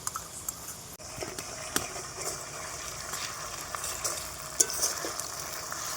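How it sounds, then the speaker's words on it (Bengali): Chicken with onions and spices sautéing in a pan at home: a continuous gentle sizzle broken by light scraping and tapping from stirring, without talk. "এবার হবে মাংস কষানো"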